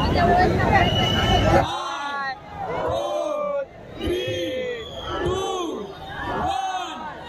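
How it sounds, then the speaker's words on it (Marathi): A large festival crowd gathers in Mumbai awaiting the Mumbai Devi procession, a dense babble of many voices with scattered shouts and cheers; in the opening seconds it sounds fuller and more continuous before settling into a steady, rising and falling hubbub. "भरपूर गर्दी वाढलेली आहे. क्राऊड हळूहळू वाढत चाललेला आहे."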